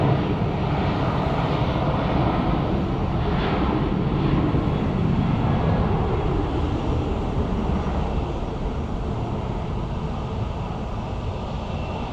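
Steady, loud roar of jet engines at Phoenix Sky Harbor airport as a Boeing 777 airliner prepares to depart, a continuous broadband rumble and whine that barely changes and slightly fades toward the end.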